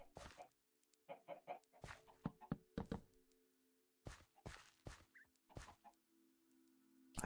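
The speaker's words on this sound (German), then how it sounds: "Die Hühner oben, oder besser gesagt unten, die müssen ja unten gerade sitzen" Chickens in the video game Minecraft cluck in short, separate bursts, several clipped calls spaced irregularly across quiet gaps, close and clear with no voices over them.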